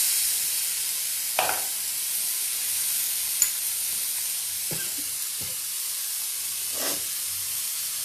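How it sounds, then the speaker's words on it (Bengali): Chicken pieces shallow frying in oil over a low flame for a Bengali chicken dal fry, a steady close sizzle and hiss throughout with a few soft scraping stirs of the spatula. "পুরো চিকেনটা আমি দিয়ে দিলাম, দিয়ে হালকা করে এটাকে একটু ফ্রাই করে নেব"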